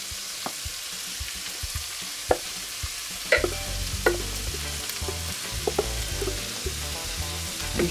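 Mashed potatoes are stirred into a warm pan of bacon fat, with a soft steady sizzle under irregular scraping and clacking strokes that grow busier and heavier partway through. No one speaks.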